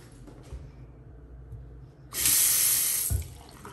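A bathroom sink faucet in a three-bedroom apartment is turned on, water gushing strongly with good pressure for about a second before shutting off with a thud, after a quiet room tone.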